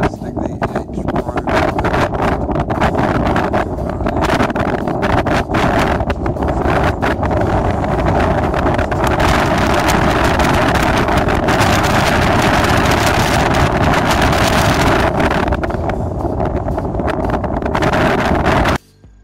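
Strong wind gusts batter the microphone without letup on an exposed hilltop about 3,000 feet up, with gusts near 50 mph, a loud roaring rumble that buries any voice until it cuts off abruptly at the end.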